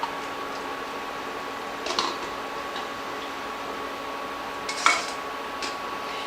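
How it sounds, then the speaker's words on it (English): Hot pickling liquid is ladled over vegetables in a big jar, giving two faint clinks of the ladle against glass with soft pouring in between, over a steady low background hum. "I'm just going to ladle this in"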